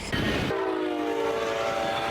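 A Brightline high-speed train arriving in Orlando sounds a loud sustained horn blast, preceded by a brief rumble of rolling wheels, with no talking.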